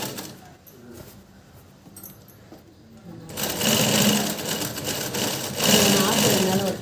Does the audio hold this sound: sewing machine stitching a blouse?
yes